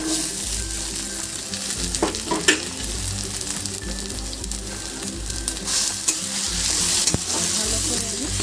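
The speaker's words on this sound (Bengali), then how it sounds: "এবার আমি এই বাটাটা, পটল বাটাটা দিয়ে দিচ্ছি।" Pointed gourd paste fries with browned onion in a pan, a dense continuous sizzle close up, broken by scraping and knocking as it is stirred, with no talking.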